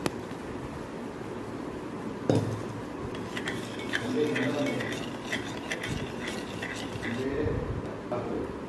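A spoon stirs ABC malt powder into milk, making light repeated clinks and scrapes against the cup, with a sharper knock partway through, while a person talks over it.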